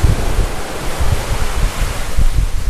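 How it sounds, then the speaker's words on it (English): Sea at St Ives harbour, a steady wash of surf and water with low wind rumble buffeting the microphone, loud and continuous with no voices. "it's just the sound of the sea and the ships and everything"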